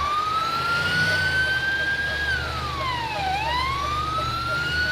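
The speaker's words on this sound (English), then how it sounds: "So come here, turn on your siren." Emergency vehicle siren in the FiveM roleplay game, a steady rising wail that swoops down and back up, loud and close over a low engine hum.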